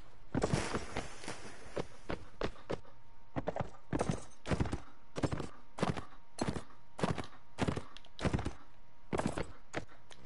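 Horse hooves clip-clop in a steady, fairly loud rhythm across the Mount & Blade: Warband battlefield, with sharp repeated strikes over quiet background ambience.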